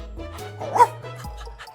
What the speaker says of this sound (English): Say bye, Bark